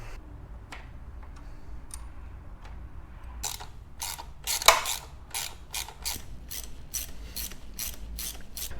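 A ratchet clicks while removing the front sprocket cover on a 2008 Honda CBR600RR, starting with a few scattered ticks, then settling into a close, steady run of rapid ratcheting strokes.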